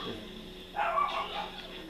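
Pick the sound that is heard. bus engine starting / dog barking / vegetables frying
dog barking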